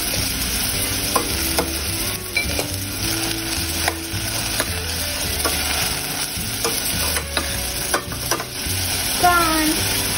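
Carrot and beans frying in a pan for corn soup, stirred with a spoon: continuous sizzling with repeated scraping and light knocks against the pan, close by, no talking.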